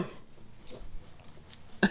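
A few short, quiet coughs and throat-clearing bursts come in separate bursts, the last one sharper and louder, with no talking.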